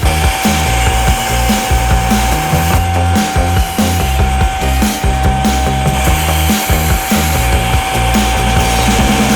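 Steel chef's knife blade ground with 60 grit abrasive on a power sander, a loud continuous abrasive whir with rhythmic scraping strokes filling the whole stretch, no talking.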